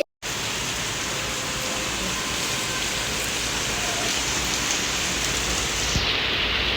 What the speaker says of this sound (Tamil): மழையை ரசிக்கிறியா